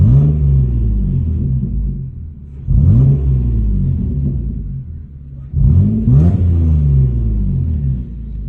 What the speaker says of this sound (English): if we give the engine some gas